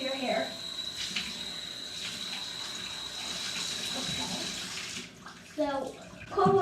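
Cold water runs steadily from a tap during an at-home natural hair wash, a continuous hiss that fades out near the end and gives way to brief voice sounds.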